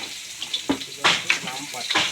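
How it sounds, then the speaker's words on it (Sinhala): Garlic drops into a hot pan and frying erupts in short bursts of hiss and crackle, two or three sizzling surges close by within a couple of seconds. "අපි මේකට දානවා අපේ සුදු ලුණු."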